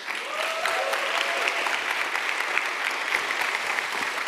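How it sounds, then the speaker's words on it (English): An audience at a live dialogue event on climate justice gives sustained, even applause with steady clapping throughout. "A big round of applause."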